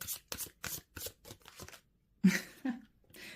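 Tarot cards riffled and drawn by hand in a series of quick, crisp papery bursts, close and clear, followed by a couple of softer card slaps.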